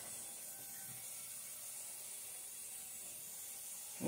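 Minced garlic sizzles in hot oil with a constant, airy, high hiss. The frying is quiet and even throughout, with a slight bump in volume at the very end.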